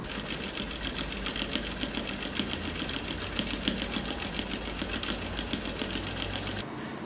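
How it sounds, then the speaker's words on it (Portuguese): A sewing machine stitches patchwork fabric for a Dresden Plate placemat along a drawn line, its needle clattering in a rapid, even rhythm close up without pause until a brief drop at the end. "Aí nós vamos para a máquina e vamos costurar exatamente em cima do risco, sem deixar qualquer abertura."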